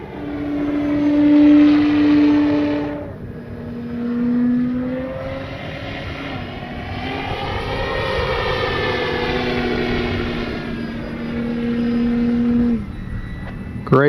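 An E-flite Carbon Z T-28 RC warbird plane flies past with a whining electric motor, its pitch bending up and down as it circles, loud and close throughout.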